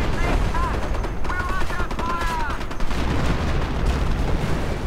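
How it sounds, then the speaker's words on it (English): Artillery fire from a Hummel self-propelled gun in a World War II strategy game, heard as a loud, dense barrage of rapid overlapping shots and booms. Whistling tones rise above the firing, and no voices are heard. "just artillery firing away completely madly, but we're seeing another barrage from the Hummel"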